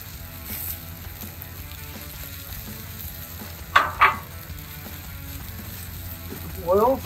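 Pork tenderloin sizzles steadily on a grill as it is basted with oil, a constant close frying hiss broken by a couple of louder crackles and a brief brushing scrape near the end, with no talking.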